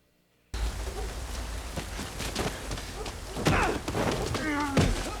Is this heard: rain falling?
yes